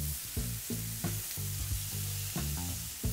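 Steaks sizzling on a preheated Weber Q griddle and grill grates, a loud, steady close-up hiss with short popping bursts throughout, and no voices.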